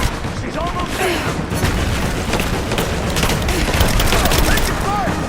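Continuous gunfire and explosive booms from the video game Rise of the Tomb Raider, on Survivor difficulty, a dense, loud barrage of rapid shots with scattered impacts that runs through the whole stretch without letup.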